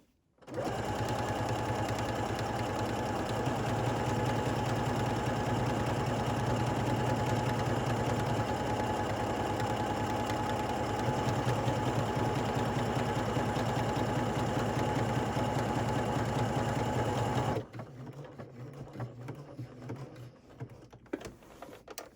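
A sewing machine stitches buttonholes in one long, steady run of rapid mechanical whirring and needle clatter, close and even, stopping abruptly near the end and leaving quieter room sounds.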